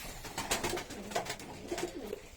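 Red-eye Arab pigeons coo in a loft, several soft repeated calls rising and falling close by, with no one speaking.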